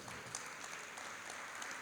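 Audience at a tax law panel session applauding to welcome a speaker to the table, a brief wash of dense clapping, soft and somewhat distant, with no speech.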